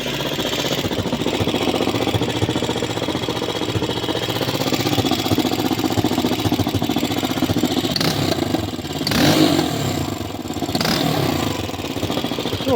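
A homemade IZh enduro motorcycle engine runs steadily and loudly up close, a rough, continuous rumble with a brief surge in revs partway through.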